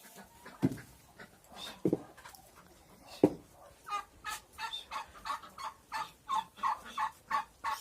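Farmyard poultry settling at evening as they are herded toward the stable to roost, with a few loud sharp calls early on, then a steady run of rhythmic repeated clucking and gobbling calls close by, no talk.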